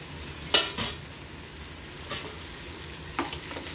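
Bottle gourd pieces frying in a pan are stirred with a utensil, giving a few distinct scraping clatters over a low, steady sizzle, close and moderately loud.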